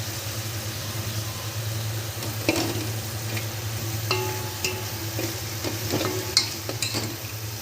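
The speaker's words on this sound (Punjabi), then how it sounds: "ਦੇਸੀ ਘਿਓ ਦੇ ਵਿੱਚ ਭੁੱਜ ਰਿਹਾ ਪਨੀਰ" Paneer frying in desi ghee for a homemade milk cake: a steady close sizzle over a low continuous hum, with occasional scraping stirs and clinks.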